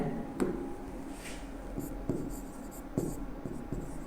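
Writing on a board during a physics lecture on refraction of light, a steady run of scratchy strokes with a few sharper taps, close and moderately quiet, with a faint voice in the background.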